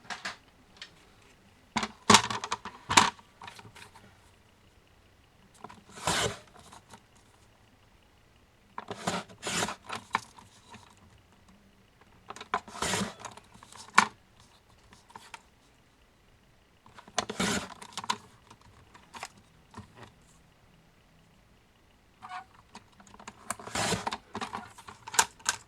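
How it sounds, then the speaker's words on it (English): Scissors cut through paper labels for a Bible craft page, giving bursts of snipping and rustling in several separate clusters with quiet pauses between, close and clear, with no talking. "And now let's finish cutting our labels."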